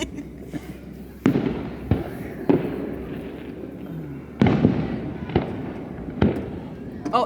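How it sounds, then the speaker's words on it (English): Fourth of July town fireworks burst in a series of sharp booms spaced about a second apart, each followed by a crackling decay, heard from a moderate distance with crowd murmur underneath. "I didn't realize how long these fireworks take."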